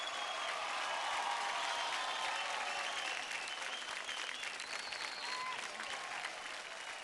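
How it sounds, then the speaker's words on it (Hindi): A studio audience at a kids' dance reality show gives sustained applause for two young performers, a dense wash of clapping that holds steady and slowly eases off, with no voices on top. "Come on guys, जोरदार तालियां हो जाए गौरव और सिद्धांत के लिए।"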